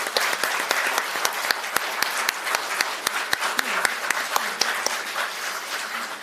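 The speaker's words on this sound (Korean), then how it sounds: "두 분께 큰 박수 보내주시기 바랍니다." Applause at a Democratic Party floor leader candidate debate, with distinct individual claps standing out over a dense, steady clapping bed at moderate volume, no talk over it.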